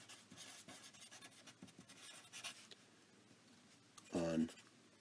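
Pen scratches and rubs on paper while a graph of a decreasing, concave-down function is sketched, soft intermittent strokes through the first half and a short louder scrape near the end, with no talk.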